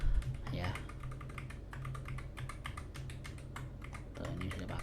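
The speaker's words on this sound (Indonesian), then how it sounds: "Lalu cara kedua itu bisa pakai keyboard, arah kanan, arah kiri, arah kanan, atas, bawah." Keys on a computer keyboard, including arrow keys used to move around a spreadsheet, are tapped in a steady stream of quick clicks while someone talks over them.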